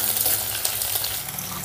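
Chopped green chillies and garlic fry in hot oil in a pan, giving a steady, close hiss with small crackles and pops and no talk.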